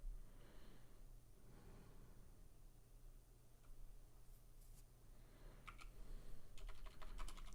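A computer keyboard is typed on close by, with quiet scattered keystrokes that build to a quick burst of clicks at the end over a low background hum.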